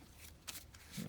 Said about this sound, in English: Shuffle that up.